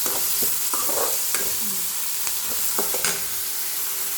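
Drumstick leaves and onions, with green chilies, are sautéed in a pan: a soft steady sizzle runs underneath while a spatula scrapes and stirs in several irregular strokes, close by and with no talking.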